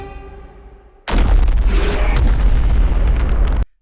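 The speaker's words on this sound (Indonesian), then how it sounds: "Monster pun meledak berkeping-keping" A monster blown apart after a cannon shot in a kaiju anime: a sudden, very loud explosion that bursts in and roars for a few seconds before cutting off sharply, with no voices.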